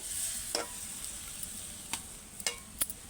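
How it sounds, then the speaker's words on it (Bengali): Bhola fish simmering in oil and spice paste, a faint steady sizzle with a few soft spoon scrapes and clicks through a short quiet stretch, no talking. "দেখো এবার আমি মাছগুলো দিয়ে দেবো দিয়ে কিছুক্ষণ ফুটাবো"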